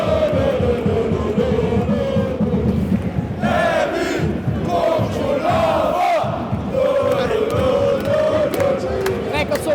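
Organized football supporters' section at a match in Denmark, a large crowd chanting and cheering together in loud rhythmic, sustained song with shouts rising over the mass of voices.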